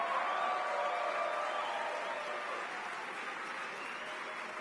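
A crowd applauds after a remark during a political speech in Minneapolis, a broad continuous wash of clapping that gradually softens.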